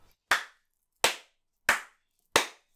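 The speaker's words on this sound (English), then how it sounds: "Oh, we need to do the clap thing." Four sharp, loud hand claps spaced evenly about three-quarters of a second apart, each a crisp isolated crack in an otherwise quiet room, used as an audio sync marker.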